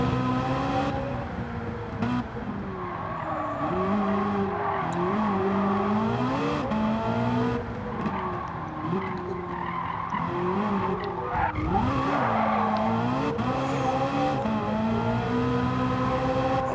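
Vintage car racing in Gran Turismo 7, with the engine droning and shifting pitch continuously while tires squeal and skid through repeated corners, loud and steady throughout with no talk.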